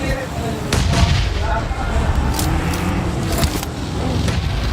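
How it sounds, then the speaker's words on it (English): Grenade blasts in a BGMI esports match, heard as a few loud booming bursts with rumbling tails over a steady bed of game noise. "Nade after nade to keep the pressure on downhill"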